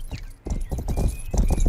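Horse hooves clip-clop in the Western video game Rustler, a run of close, fairly loud thuds with short pauses between bursts of steps.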